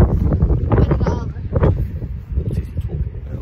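Strong wind batters the microphone on an outdoor football pitch, gusting in heavy, uneven bursts that partly cover someone speaking.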